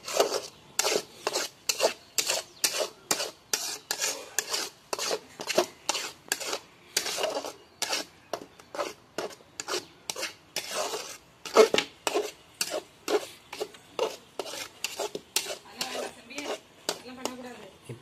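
Rhythmic rasping scrapes of a spatula stirring masala and goat intestine in a pan, about two strokes per second, steady and close, with no speech.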